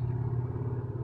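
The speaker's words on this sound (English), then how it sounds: "if we hear some cars in the background, sorry, I have my window open" Cars pass outside an open window of a warm room, heard as a steady low traffic rumble with a faint engine drone that continues without a break.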